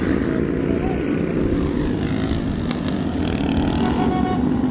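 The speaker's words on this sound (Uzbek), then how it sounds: "Bunda mana samolyot." A propeller airplane flies near an international airport in Namangan. Its steady engine drone sounds fairly loud and continuous, mixed with street traffic noise.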